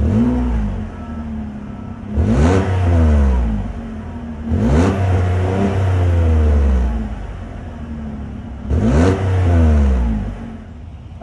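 2022 GMC Canyon Denali's 3.6-liter V6 revved while parked: three loud, close throttle blips, each climbing sharply in pitch then falling back to a steady idle, with no talking.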